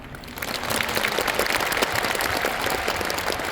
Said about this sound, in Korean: 소중한 말씀 전해주신 회장님께 다시 한번 큰 박수 보내주시면 감사하겠습니다